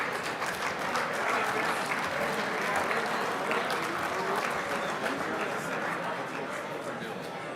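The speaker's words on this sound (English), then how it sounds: "another big round of applause for those youngsters" Sustained applause from a large audience at a radio-controlled car racing awards banquet, the 2023 IFMAR 1/10 World Championships, with dense, steady clapping across the whole stretch and crowd chatter mixed beneath.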